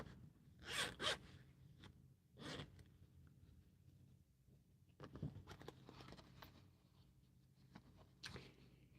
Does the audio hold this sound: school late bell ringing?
no